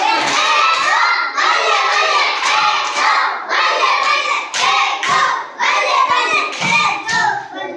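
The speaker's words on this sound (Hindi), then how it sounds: "ताली बजाओ इसके लिए, बल्ले बल्ले वाली ताली बजाओ।" Schoolchildren at a primary school celebration clap their hands together in loud, rhythmic bursts, a dense crowd of claps with a few shouts mixed in.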